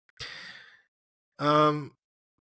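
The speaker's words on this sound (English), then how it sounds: "gets into a epic yawn there" A man's epic yawn at 1 a.m., heard as two loud breathy bursts: a rasping inhale followed after a pause by a long, strongly voiced, groaning exhale.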